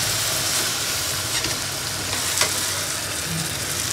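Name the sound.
meat added to frying onions in a pot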